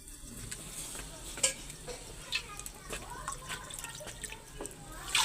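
Water is added to cooking masala in a village mud-house kitchen, with faint sizzling, soft stirring and scattered drips and splashes.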